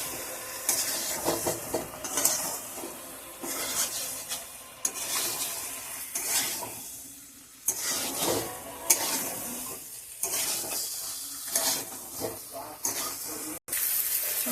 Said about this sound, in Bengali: মশলার সঙ্গে আলুটা একটু ভালো করে কষে নেব।